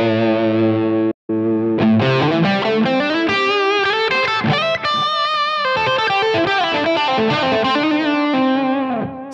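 Distorted electric guitar through a Line 6 Helix playing a melodic line with delay repeats trailing each note, loud and continuous, with one brief gap near the start.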